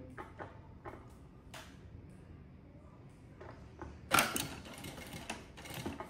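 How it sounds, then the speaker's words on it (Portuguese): A domestic sewing machine stitches a seam in fabric, backstitching at the start and end. Scattered quiet mechanical clicks give way to a louder, short burst of rapid needle clatter near the end, close and faint overall. "Vou fazer a costurinha ali."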